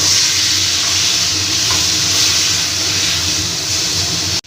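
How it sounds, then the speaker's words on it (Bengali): Spice paste of cumin and chilli powder with a little water being sautéed in a pan, a loud, dense, even sizzle that holds steady throughout without any speech. "একদম কম করে হাফ চামচ জিরের গুঁড়ো আর একটু লঙ্কার গুঁড়ো দিয়ে দিলাম সামান্য একটু জল দিয়ে মশলাটাকে আমি কষিয়ে নেব"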